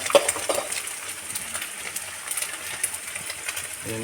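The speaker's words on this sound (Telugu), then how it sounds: "రెండు ఎగ్స్ని కొట్టి పోసుకోవాలి నిమ్మలంగా సార్" Two beaten eggs go into a hot pan for egg fried rice, giving a close, steady sizzle with light scraping and clinking of a utensil, and a short tonal clatter at the end.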